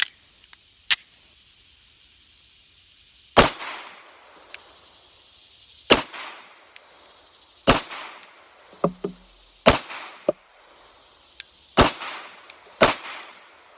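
Glock 43 pistol fired on a range, sharp individual gunshots spaced a second or two apart, about eight reports with short ringing tails, moderately close and with no talking between them.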